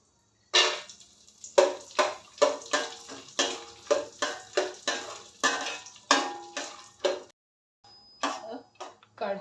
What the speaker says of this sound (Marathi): हे काजू बदाम कट करून घेतलेले आहेत, त्याला आपण थोडंसं फ्राय करून घेऊया